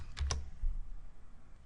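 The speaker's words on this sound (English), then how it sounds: "highlight them and click Delete on your keyboard" Two quick computer keyboard key presses, the Delete key tapped close by in a quiet room, crisp clicks about a tenth of a second apart followed by silence.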